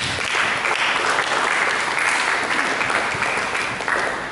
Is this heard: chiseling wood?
no